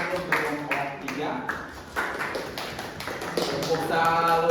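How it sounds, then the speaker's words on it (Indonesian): Students in a classroom clapping for a presenting group, a rhythmic burst of hand claps in short groups with voices mixed in, fairly close and moderately loud. "Berikan tepuk tangan dulu untuk kelompok 3."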